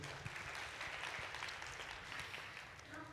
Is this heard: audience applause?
yes